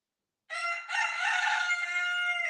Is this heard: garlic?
no